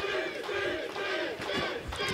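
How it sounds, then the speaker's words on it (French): Crowd cheering and shouting for a performer called Dancing Steve at a staged wrestling show, a dense sustained roar of many voices that carries through the whole moment. "T'entends-tu la foule qui mange dans la main de Dancing Steve, Catherine?"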